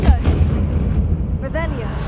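Confringo, the fire spell in Hogwarts Legacy, goes off as a sharp, loud blast followed by rumbling, with brief whooshing game effects near the end; no speech is heard.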